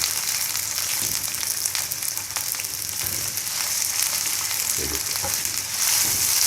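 Tomatoes added to softened onions for a mixed vegetable sabzi, sizzling steadily in a pan up close, with scattered stirring scrapes and knocks through the frying and no talk.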